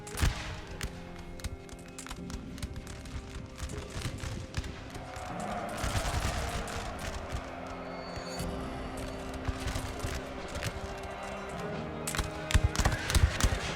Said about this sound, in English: Infantry is firing point blank into the enemy cavalry